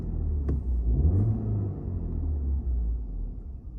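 Audi A4 Avant 2014, 1.8T FSI 170PS four-cylinder turbo petrol, revving once at idle with its twin exhausts. A steady low rumble swells briefly and then settles, heard from inside the car with the blower running softly.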